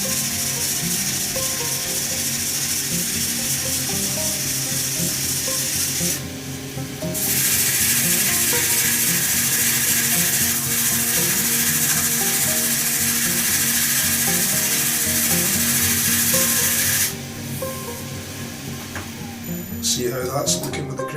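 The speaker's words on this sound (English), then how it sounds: "Might actually use this little foam pad in behind the sandpaper just to get the worst of it." Sandpaper backed by a small foam pad rubs a turned wooden hybrid shaving brush blank on a lathe, a steady close hiss that fades briefly and returns, with a spoken voice over it.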